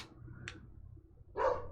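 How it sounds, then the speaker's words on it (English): A pet dog gives two short barks indoors, one brief and faint, then a louder, fuller bark near the end, over a low steady room hum. "my dog's like, this is the perfect time to bark"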